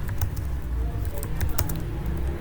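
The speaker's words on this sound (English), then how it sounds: "continuing conversation by typing in your text question" Rapid clicking keystrokes on a computer keyboard patter steadily and close by over a low background rumble as a question is typed into ChatGPT.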